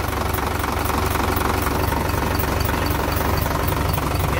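A Fuso Fighter wingvan truck's fully mechanical, non-electronic 6D16 diesel engine runs steadily at close range, a loud, dense knocking idle that continues without pause.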